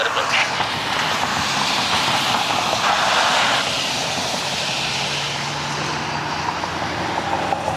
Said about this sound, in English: Got another business jet inbound.